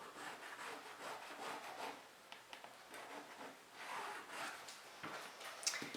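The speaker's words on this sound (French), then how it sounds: "je vais tracer une ligne au milieu qui rejoint ces deux points" Quiet scratchy strokes of something drawing a line on fabric for a sewn shoulder bag, soft and close, in short uneven passes with brief pauses.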